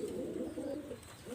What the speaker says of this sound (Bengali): এখানে এক জোড়া কবুতর আমি দেখাচ্ছি